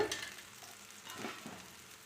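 Tamil spinach adai made with amaranth stem greens fries on a pan, giving a faint, soft, close-up sizzle for a couple of seconds without any talk.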